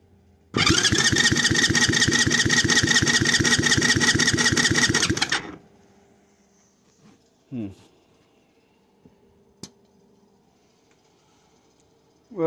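A 110cc engine, freshly rebuilt at the top end, starts and runs loud and steady for about five seconds, then shuts off, leaving only faint clanks and handling noises.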